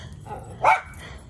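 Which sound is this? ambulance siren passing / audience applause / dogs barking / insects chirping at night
dogs barking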